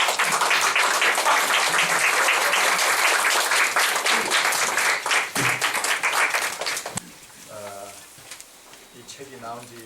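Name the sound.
church congregation applause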